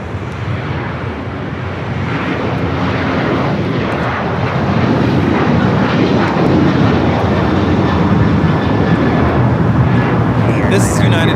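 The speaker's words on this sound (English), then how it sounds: "This is United Airlines 1298 taking off to Tampa, Florida on the 737-900ER." A United Airlines Boeing 737-900ER takes off from LAX toward Tampa, its loud, broad jet roar building partway through and holding steady, with voices faintly audible beneath the engine noise.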